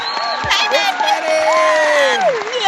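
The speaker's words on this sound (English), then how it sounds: "applause. Yay!" A crowd at a live show claps and cheers in a short burst, with whoops rising over the applause while a nearby voice talks on top.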